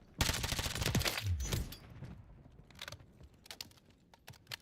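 Rapid gunfire bursts crackle through a Black Ops 6 multiplayer match, a loud dense volley at the start followed by scattered sharper shots, with clicky game sounds in between.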